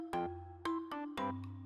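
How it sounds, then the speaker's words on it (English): Mobile phone ringtone playing a short melodic pattern of bright tonal notes in repeated bursts, close and clear, with no talking. "is that your phone ringing?"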